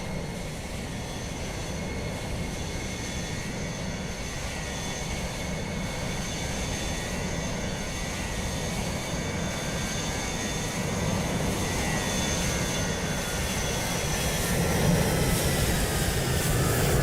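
DHL aircraft in Microsoft Flight Simulator 2020 at Dublin Airport, a continuous engine roar with a faint high whine that builds slightly in loudness and holds steady throughout.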